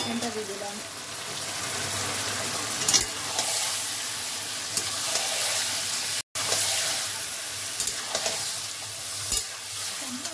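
Chicken pieces sizzling and frying in a pan with melted tomato, a steady hiss of frying with occasional stirring scrapes and clinks, close and continuous, broken by one brief dropout.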